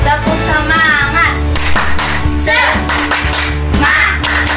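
Children's group clapping to a rhythm during an online Indonesian children's religious class, steady hand claps mixed with music and lively voices throughout.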